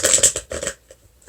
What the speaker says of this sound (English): I'm shuffling these cards a lot